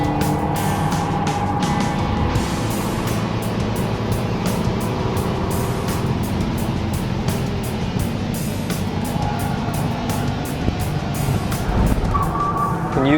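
An Audi A3 with a 1.8 TSI petrol engine drives hard around a race track, its engine a continuous near drone with shifting pitch and rapid ticking clatter over thirteen seconds.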